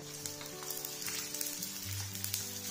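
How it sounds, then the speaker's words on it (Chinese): Chopped ginger and garlic sizzling in hot oil in a small clay pot, a steady crackling fry with brief spatters and a low hum beneath, close and soft. "起一个小砂锅烧热后，我们淋上点油，先倒入姜蒜粒给它爆香"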